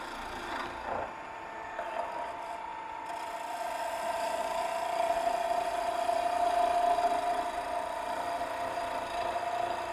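Wood being turned on a mini lathe with a hand tool sliding along the tool rest, a steady scraping hiss with a faint whining tone that swells slightly midway and runs continuously for the whole stretch.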